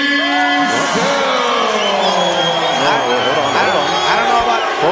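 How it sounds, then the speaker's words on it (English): Mixed crowd reaction after an MMA judges' decision in Hawaii: a large arena crowd yelling, whooping and booing together, loud and sustained, with an announcer's voice over it. "We're definitely get a mixed crowd reaction here."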